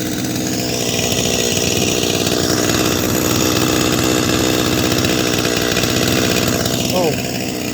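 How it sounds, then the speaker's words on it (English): Holzfforma G255 chainsaw revved to full throttle during tuning: a loud, close, buzzing two-stroke engine roar held high and steady throughout, with slight pitch swings as the throttle is worked. "we're going to whip it up to full throttle a few times before we check it"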